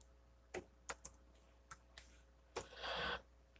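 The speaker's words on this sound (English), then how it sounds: "I'm typing it in right now." Someone types on a computer keyboard, a handful of separate sharp key clicks with uneven spacing, followed by a brief rustling burst, all close and quiet with no voices.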